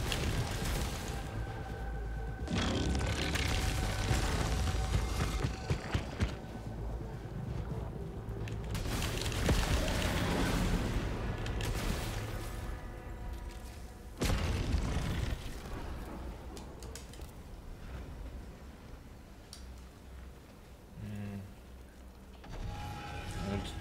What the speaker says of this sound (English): Turrets, man, these damn turrets.